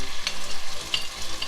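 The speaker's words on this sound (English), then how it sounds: "I'm going to add the combination of scotch bonnet pepper, garlic and ginger into the hot oil" Scotch bonnet pepper, garlic and ginger frying in hot oil for egusi stew, a close, lively crackling sizzle with a few sharp pops, no voices.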